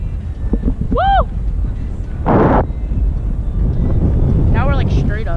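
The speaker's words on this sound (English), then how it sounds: "It's really windy." Steady gusting wind rumbles and roars across the microphone, with brief whistling tones and a burst of hiss partway through.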